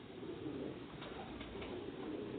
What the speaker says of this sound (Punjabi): ਬਰੀਡਰ ਕਬੂਤਰ ਸਿਆਲਕੋਟੀ ਬਟੇਰੇ।